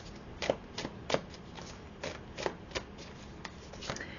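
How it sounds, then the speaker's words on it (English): Tarot deck shuffled by hand before cards are drawn for a yearly forecast: soft, irregular card flicks and riffles spaced about half a second apart, close and fairly quiet with no speech. "So let's pull some cards and we'll see what that is."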